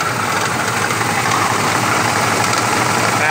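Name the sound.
Ford Crown Victoria engine timing chain rattling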